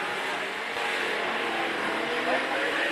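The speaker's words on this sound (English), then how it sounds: "Looks like the supercar just popped a turbo button and going to left the superbike behind." Supercar and superbike racing engines roar in a speed battle, a steady, fairly distant high-revving drone with a person talking over it.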